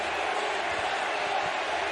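Fired-up baseball crowd at a Yankees vs Mets game, a steady roar of many voices filling the stadium, continuous and even without distinct peaks.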